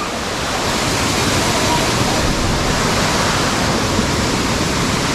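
Waterfall pouring at a beach in Lila, Bohol, a loud dense rushing hiss of falling water filling the whole stretch, steady and close.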